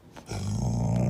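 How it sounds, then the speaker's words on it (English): A dog gives a short, low growl close by, a rumbling snarl lasting about a second, rising after a brief quiet start. "We don't bark at the delivery man."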